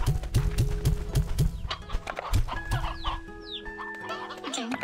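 Chickens cluck and squawk in a video game with thousands of fowl, rhythmic repeated clucks up close over a busy layer of game sounds and steady tones, no talking.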